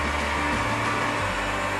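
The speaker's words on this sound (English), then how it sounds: "I use the heat gun to dry faster because it takes so long to dry that." A Stanley heat gun blows hot air to dry latex paint indoors, making a loud, steady fan-and-air roar throughout with no talking.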